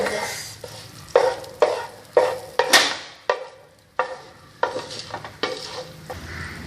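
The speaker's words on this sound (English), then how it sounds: "I'm going to add some of these spices, 4 of them, and then mix it well" A spoon stirs spices into kabsa chicken frying in a pan, in a quick series of scraping strokes over a steady, loud sizzle.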